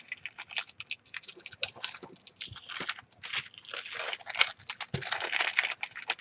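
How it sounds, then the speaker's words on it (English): Paper envelopes being folded in half by hand, close crisp crinkling and rustling with sharp creases and taps in irregular bursts, some quiet sounds in between. "I'm just folding them in half because I'm gonna use them in those little minis in the signatures"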